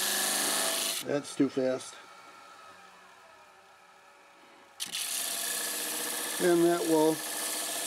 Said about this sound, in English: What I have made here is a sandpaper disc.